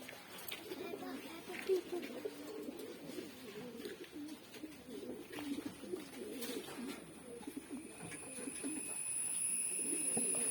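Pigeons, some of them with a drooping-neck ailment and one with a minor eye complaint, coo in low repeated murmurs throughout, a steady soft burbling layered with faint background noise.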